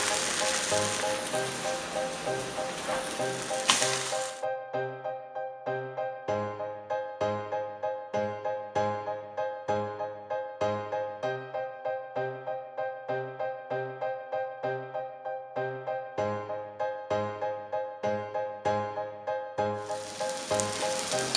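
Slices of French toast fry in butter in a pan with a steady, dense sizzle. It is loud and close at the start, gives way to music with a repeating beat, then returns briefly at the end.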